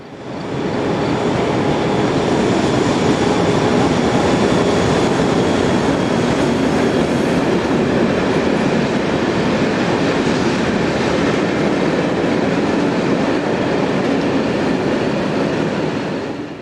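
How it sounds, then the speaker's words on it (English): A pair of class 1142 electric locomotives rumble steadily past hauling a ballast train, a loud continuous roar of engines and rolling wheels throughout. "A pair of 1142s head south with a ballast train."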